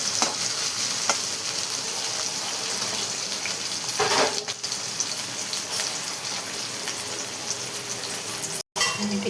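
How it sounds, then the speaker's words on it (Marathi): Onion and tomato frying in oil with mustard seeds and cumin, a loud, steady, close sizzle with occasional stirring scrapes throughout, no voices. "आपण मस्त असा कांदा टमाटा ब्राऊन कलर करून घेणार आहे"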